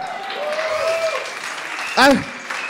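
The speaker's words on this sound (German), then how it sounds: "gib ihm mal Applaus" A comedy bar crowd in Munich claps for an audience member, the applause running under voices and shouts, with one loud whoop rising near the end.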